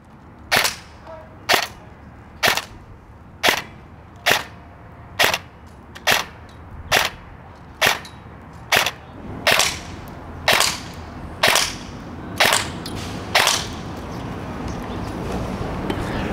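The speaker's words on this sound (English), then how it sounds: "we're gonna go ahead and give it a chrono test." An EMG Daniel Defense M4A1 airsoft electric gun fires 0.2 gram BBs in single shots, about sixteen sharp, loud cracks spaced evenly roughly a second apart over a low background hum.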